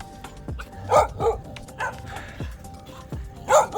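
Several small dogs yip and bark in short, irregular bursts close by, high-pitched puppy barks overlapping with some whimpering.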